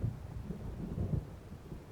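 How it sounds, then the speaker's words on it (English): Low thunder from a storm in the Alan Wake video game, a deep rolling rumble with a few heavier swells, moderately loud and with no voices. "It seems there's a storm coming."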